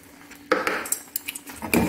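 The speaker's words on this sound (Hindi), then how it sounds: "ऐसे मिक्स करते हुए हम लोग खोआ पकाएंगे।" A spoon scrapes and taps against a pan while khoa milk solids are stirred and cooked for orange barfi, giving close, irregular metallic knocks and scrapes.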